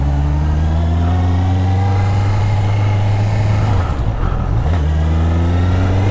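A 2022 Honda CB650R four-cylinder motorcycle is ridden on a test ride near Nantes. Its engine drones loud and close at steady revs, dips briefly as if shifting gear, then settles back into the same hum.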